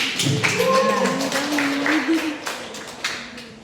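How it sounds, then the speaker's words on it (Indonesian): Students in a histology practical class clap for a classmate, a light scattered patter of hand claps running under ongoing talk. "tepuk tangan untuk Tommy"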